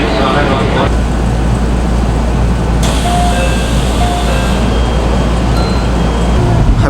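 A local passenger train running between small stations, heard from inside the carriage as a loud, steady rumble and roar of wheels on track that continues without a break.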